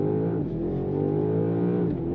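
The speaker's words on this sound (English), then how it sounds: "holding my foot on the brake, pinning the throttle, building up the revs, and letting it go" A 2025 BMW M5 under launch-control acceleration, its engine note rising steadily in pitch with a brief dip at a gear change, loud and close from inside the cabin, with no voices.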